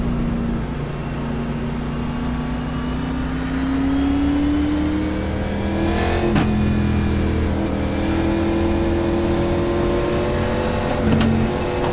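A race car engine drones steadily on the track at Bristol, its pitch rising and falling as it runs through the lap, with a brief whoosh of another car passing partway through.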